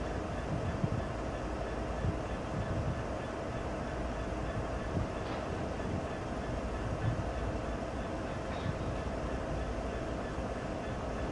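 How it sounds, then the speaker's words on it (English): Low, steady rumble of idling SD40 diesel freight locomotives switching, with a constant droning hum and faint clanks, continuous and moderately distant. "There's SD40s over there just doing some, I guess, switching."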